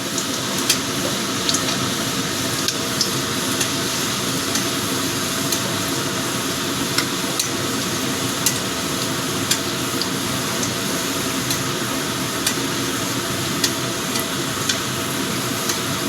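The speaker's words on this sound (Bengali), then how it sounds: "রসুন কুচিটাও একটু লাল করে ভেজে নেব" Chopped garlic fries in a pan with a steady, dense sizzle and faint intermittent stirring clicks, close and even throughout with no voices.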